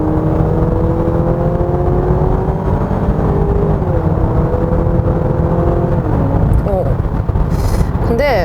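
A 2025 Honda Accord Hybrid accelerates with a steady rising engine drone blended with a virtual engine sound, its pitch climbing in stages beneath loud road and wind noise throughout.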